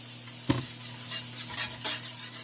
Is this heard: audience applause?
no